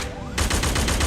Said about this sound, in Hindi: दोनों तरफ से धड़धड़ाती हुई गोलियां और हथियार चलने लगते हैं।